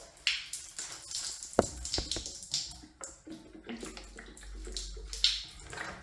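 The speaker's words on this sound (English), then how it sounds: "You can hear like gurgling." Water gurgling inside a plastic jug fitted as a homemade watering can with clogged drilled holes: uneven glugs and splashy bursts, close and fairly quiet, with short pauses between.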